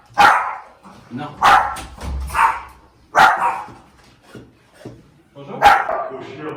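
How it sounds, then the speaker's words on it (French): A dog barks loudly and close in a home, giving about five sharp barks at uneven intervals with quieter rustling in between. "Le chien, c'est insupportable."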